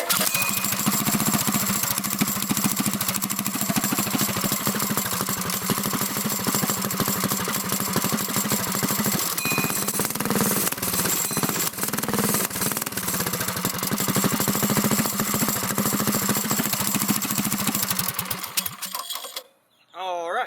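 A Predator 212 small gas engine with a stage 1 kit and exhaust header runs loudly and steadily with a buzzing, rattling drone, then sputters and cuts out near the end.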